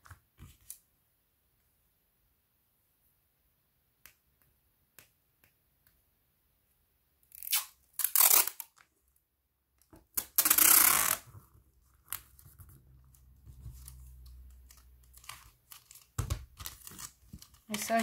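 Adhesive tape is torn from a roll during a paper craft project: two short, close, crisp rips stand out against near silence, followed by soft handling rustles.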